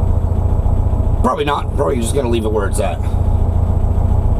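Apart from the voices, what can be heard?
1964 VW Beetle engine idling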